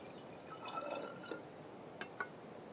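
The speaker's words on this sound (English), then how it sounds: "Then you take 1/2 cup of hydrogen peroxide and put it in each" Hydrogen peroxide is poured into a bottle, giving a faint, brief trickle and a couple of soft drips near the end, quiet and close.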